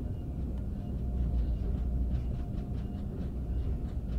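An Acela Express on the Northeast Corridor route in Train Sim World 4 passes another train, a steady low rumble with rhythmic rail clicks building in the middle, heard from inside the cab with no talking.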